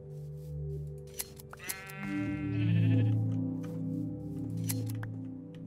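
A Minecraft sheep bleats in a series of drawn-out, wavering calls that overlap and shift in pitch, fairly loud and close, with a few faint clicks in between.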